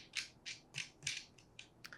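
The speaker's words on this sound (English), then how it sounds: "grab your remaining wing nut and screw that on" A wing nut being screwed on by hand while assembling a hook project, about seven short, close metallic scraping turns in a quick uneven rhythm, no talking.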